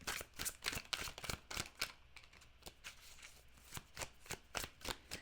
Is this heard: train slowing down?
no